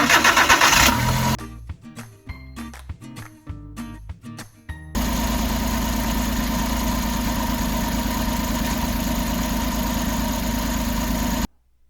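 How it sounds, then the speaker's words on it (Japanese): A kei campervan engine cranks over in stuttering bursts, catches, and settles into a loud, steady idle of about 78 to 80 decibels that runs on before cutting off abruptly. "エンジンかけていきます。"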